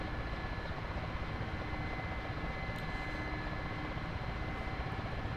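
An Mi-8 helicopter hovers over a fixed point in the DCS flight simulator, producing a steady, droning rotor and engine hum with constant loudness and no talk.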